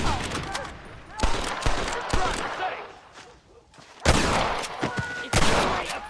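Rapid bursts of gunfire crackle in Red Dead Redemption, a loud, close fusillade of repeated shots with a brief lull midway before heavy volleys resume. Voices shout over the shooting.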